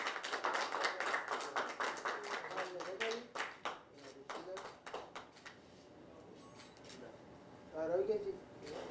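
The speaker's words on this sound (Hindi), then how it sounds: "Everyone, big hand." Audience at a song launch for a Swami ji song gives a round of applause: dense, close clapping for about three seconds that thins into scattered claps, with voices talking near the end.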